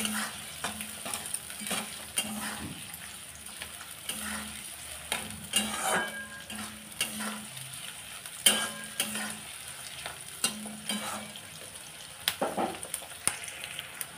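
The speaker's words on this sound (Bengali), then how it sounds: "এগুলোকে একটু লাল করে ভেজে নেব।" Chopped onions fry in oil in a pan for a curry, a steady close sizzle broken by repeated scraping stirs and a few sharp spatula clicks, with no voices.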